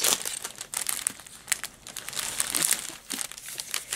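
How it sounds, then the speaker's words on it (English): Plastic packaging of a diamond painting kit crinkles and crumples up close, loud and continuous with bursts of sharper rustling and brief pauses, and no talk. "Oh yes, crinkle alert."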